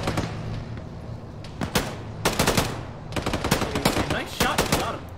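Rapid automatic gunfire bursts and single shots in the military shooter Arma, loud and close, arriving in dense clusters with short gaps between volleys, with faint voices in the background.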